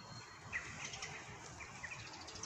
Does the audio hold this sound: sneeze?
no